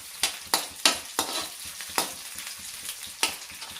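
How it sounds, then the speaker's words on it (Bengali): Onions and garlic frying in a pan for dried fish charchari, a soft sizzle broken by sharp, repeated stirring clacks of a spatula against the pan, roughly every half second, close up. "তো পেঁয়াজ রসুনগুলোকে একটু ভেজে নেবো এরকম করে, বেশি ভাজতে হবে না"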